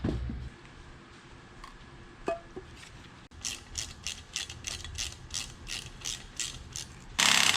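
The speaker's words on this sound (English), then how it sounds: "I can pretty much go till this impact stops because it only puts out like 15 foot-pounds of torque" A low-torque impact wrench tightens new manifold bolts on a 1975 Jeep Cherokee engine swap, a rapid series of close mechanical hammering bursts after quieter shop noise, ending in a louder final burst.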